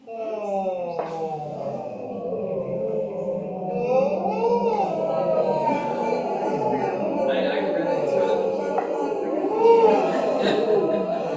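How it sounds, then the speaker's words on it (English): A voice hums and slides through pitches with a muffled, buzzy tone as if sounding through a cup, sustained over several seconds. "we're going to start blowing air, and then we're going to vocalize through the cup"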